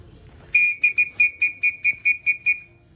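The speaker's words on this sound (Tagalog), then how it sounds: "Nasanay sa sipol yung mga yan. Narinig nila," A series of about nine short, sharp whistle blasts in a quick steady rhythm, loud and clear over a faint outdoor background, whistling to call homing pigeons down.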